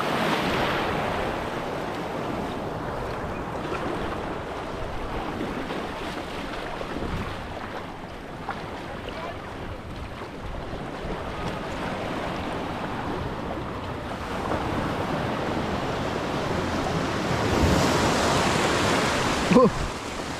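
Sea waves around a small fishing boat, a steady broadband wash of surf and wind noise running throughout, slightly louder toward the end with a faint knock.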